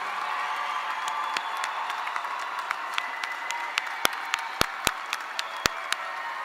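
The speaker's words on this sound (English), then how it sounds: "Please give a huge round of applause to all of our hardworking graduates." An audience at a spring School of Engineering convocation applauds its graduates with a steady bed of clapping, scattered sharp individual claps standing out, moderately distant.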